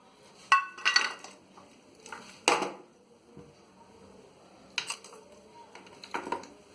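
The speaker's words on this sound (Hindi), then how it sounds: "इस पे पैन को रखते हैं और इसमें गुड़ डाल देते हैं।" A pan set on a stove and jaggery added to it, giving several separate metallic clinks and knocks with quiet gaps between them.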